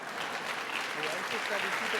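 A church congregation at an evening convention service claps louder for the preacher, a dense continuous applause with some voices mixed in over the short stretch.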